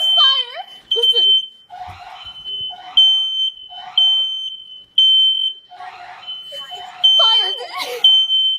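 A smoke alarm sounds a loud, steady high-pitched tone that runs almost unbroken through the whole stretch, while people shout excitedly over it.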